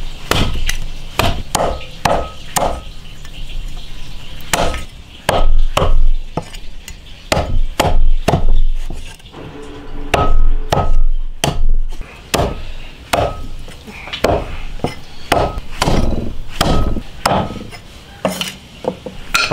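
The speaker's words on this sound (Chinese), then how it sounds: "把鸡子剁了去" A cleaver chops through chicken on a board, sharp repeated thwacks in uneven bursts, loud and close, with no talking.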